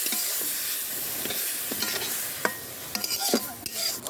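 Grated coconut and jaggery are stirred in a wok over heat, a soft continuous sizzle broken by scraping strokes of a utensil against the pan, close and fairly quiet.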